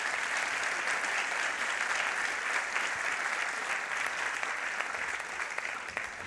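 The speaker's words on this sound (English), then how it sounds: "A round of applause for my colleague Stephen as well, please." A seated audience at a book talk in Sydney gives a warm round of applause, steady dense clapping filling the room from start to finish, tapering slightly toward the end.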